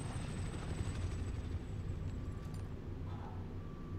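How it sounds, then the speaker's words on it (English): Supply helicopters arriving in the video game Call of Duty Warzone, a continuous loud rotor and engine drone that holds steady throughout, with faint game effects layered over it. "Supply choppers inbound."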